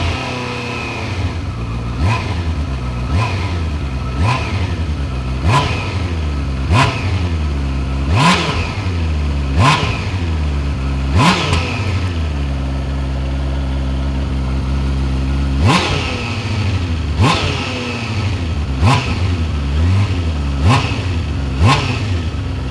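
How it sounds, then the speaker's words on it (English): A 2021 Honda CBR650R four-cylinder motorcycle engine, loud and close, rises from idle in a series of sharp revs, each blip climbing and falling back, repeated steadily for over twenty seconds. "hear it and tell me if it's as loud as the previous model."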